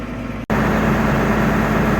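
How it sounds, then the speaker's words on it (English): A farm tractor engine idles steadily while warming up on a snowy Kansas farm, a continuous low rumble close by, broken once by a brief dropout early on. "while I was letting the tractor warm up"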